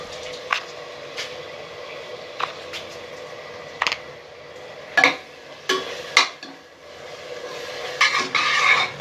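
A spatula stirs onion, ginger-garlic paste, chopped tomatoes and salt in a pan for country chicken salna, giving sparse scraping clinks and soft squishy sizzles at irregular intervals, close and moderately loud.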